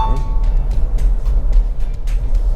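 Toyota Fortuner 2.4 diesel SUV with i-ART injection, 2020 model, heard from inside the cabin while driving: a steady low engine and road rumble with a faint background voice.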